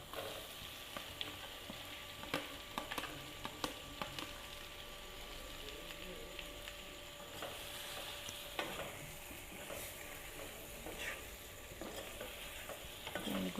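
Fried chicken meat is stirred back into a sizzling curry pan, with steady frying crackle and repeated sharp scrapes and clicks of the spoon against the pan, fairly close, with no voices.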